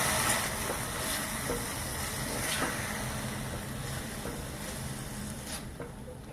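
Spiced mixture for instant idli sizzles and fries in a pan, a steady, close, broadband hiss that runs throughout with faint stirring scrapes.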